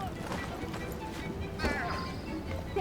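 Hooves of a horse in Assassin's Creed Syndicate clip-clop steadily at a moderate distance, a few soft irregular beats running beneath game background noise and a voice.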